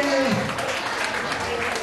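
Children and adults at a neighborhood Christmas celebration clap together close up, a dense burst of applause with voices mixed in.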